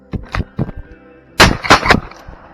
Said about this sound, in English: So I just shot the first crow at the second spot.